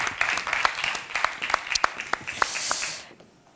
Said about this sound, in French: Mesdames et messieurs, je vous demande de l'applaudir très très fort